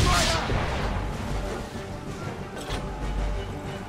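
Volleys of musket fire in Assassin's Creed III, a dense, sustained crackle of shots layered with a loud boom at the start, with shouted commands and talk over the battle.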